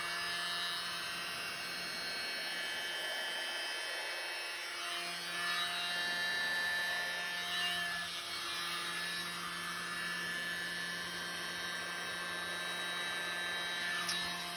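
A tiny handheld air blower runs continuously over acrylic pour paint, a steady whirring hiss with slight swells, fairly quiet and close, with no talking.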